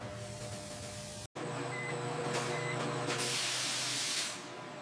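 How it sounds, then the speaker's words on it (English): Steam hisses broadly and steadily onto leather on a factory floor, a loud continuous spray that cuts out briefly, resumes, swells brighter toward the end, then eases off over machinery hum. "Steam softens the leather so it can be shaped without stress."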